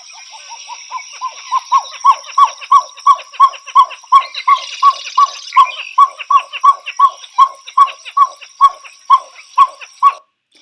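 A pied-billed grebe gives a long, loud series of rhythmic, barking calls, about two dozen evenly spaced notes that grow stronger and then stop abruptly.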